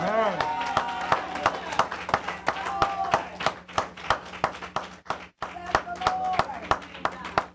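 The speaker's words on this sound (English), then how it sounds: "I don't know if that clap is for me or is for God." Scattered, uneven audience clapping at a church service, sharp hand claps spaced irregularly over several seconds with sustained background tones and voices murmuring underneath.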